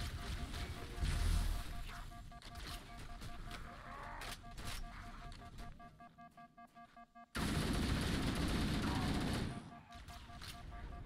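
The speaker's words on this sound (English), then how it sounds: "Excellent use of covering fire." Covering fire in Halo: Combat Evolved: sustained automatic gunfire with rhythmic bursts, then a sharp cut to a loud, dense stretch of shooting and explosions.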